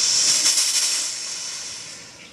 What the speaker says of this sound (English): look at all the steam this thing makes.